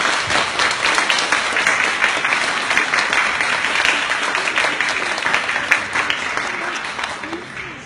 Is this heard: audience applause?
yes